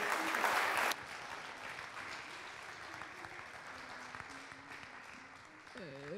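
An audience applauds at a French farming-university round table on peasant livestock farming, with a dense burst of clapping in the first second, then a quieter room with murmurs and a voice at the end.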